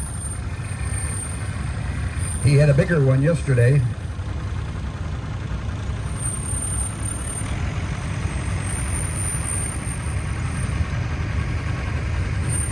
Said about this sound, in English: Next we got Al Heatherwick with a Alice Chalmers 175. It's a 1972 model. He is from Peatone, Illinois. It is a diesel-powered tractor.